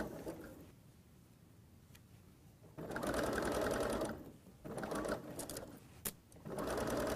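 A sewing machine stitches a curved seam with pins pulled out along the way, running in loud close bursts of rapid needle chatter separated by short pauses as the fabric is eased around the curve.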